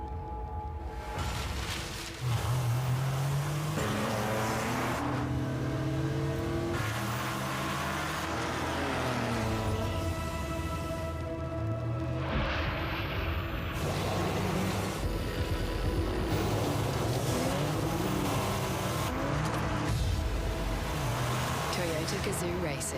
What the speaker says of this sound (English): Toyotas are rolling out on to the racetrack.